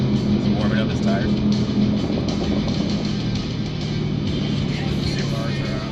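A tuned Audi RS6 (C8) weaves on a backroad to warm its tires. A steady engine and road drone fills the cabin throughout, with people talking over it.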